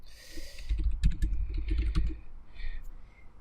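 A computer keyboard is typed on in a quick series of close, crisp key clicks, irregular in rhythm, with a low background hum underneath and brief pauses between keystrokes.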